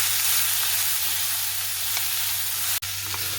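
Drumstick leaves sautéing in a pan, giving a loud, steady, close-up sizzle with no talk over it.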